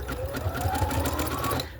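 Sewing machine stitching handmade fabric ruffles: a steady, fast mechanical whir and rhythmic needle clatter running close and loud for nearly two seconds, then stopping.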